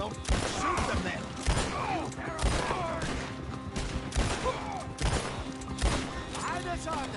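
Repeated gunshots crack in Red Dead Redemption 2, sharp irregular bursts every second or so against a busy background, with voices and other action sounds in between.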